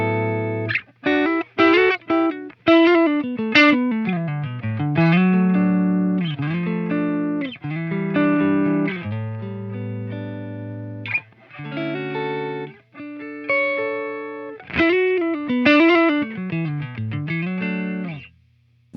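Electric guitar played through a Line 6 Pod Go multi-effects unit on its default preset, a clean-to-driven tone with chorus-like shimmer, strummed chords and short melodic runs ringing out alone for about twenty seconds.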